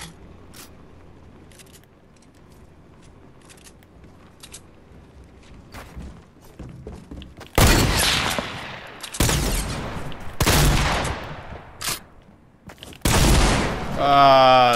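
Loud gunfire from a shotgun in the battle royale game Fortnite comes as four heavy blasts with short gaps, over faint earlier game noise and a low background voice.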